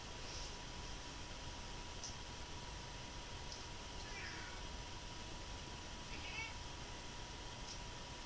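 A house cat meows a few times, faint and somewhat distant, over a steady background hiss during a quiet indoor qigong session.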